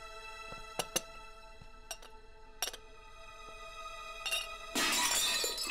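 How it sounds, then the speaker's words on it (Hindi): A cup breaking in a Hindi-dubbed Hollywood movie scene: a few faint clinks and ticks lead into a sudden bright burst of shattering near the end, close and crisp. "वो बस कप टूट गया गलती से।"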